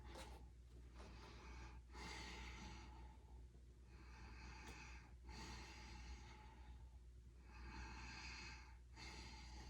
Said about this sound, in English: hopefully you can hear me doing my ujjayi breathing over here. It's almost like a beginning of a snore